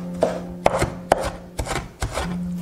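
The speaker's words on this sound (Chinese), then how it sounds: "像剁成这样子，稍微有点颗粒感的就可以了" A knife chops shallots on a cutting board in about five sharp, close thuds with short pauses between, alone with a low steady hum behind them.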